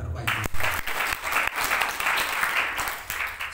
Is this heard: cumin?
no